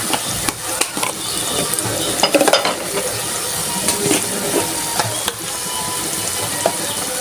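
Spiced greens frying in a pan with garam masala and red chilli powder, a steady sizzle broken by repeated scraping and clattering as a spatula stirs against the pan.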